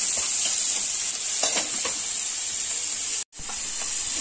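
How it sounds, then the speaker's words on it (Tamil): Onions sautéing in a pan for butter chicken, a constant bright sizzle up close with a few soft stirring scrapes and a brief dropout near the end. "இது நல்லா வதக்கிக்கோங்க"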